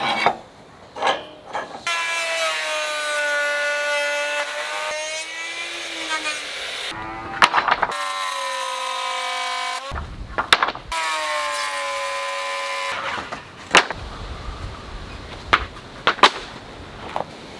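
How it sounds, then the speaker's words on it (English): A router cuts the tongue along wooden boards, its motor whining steadily in long passes that rise and dip in pitch under load, broken by short pauses and clunks between cuts. "I've routed the groove into all these boards, and now I need to router the tongue."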